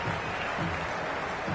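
A cricket crowd in the Cricket 26 video game roars with steady, dense cheering and applause that holds at an even level throughout, with no voices standing out.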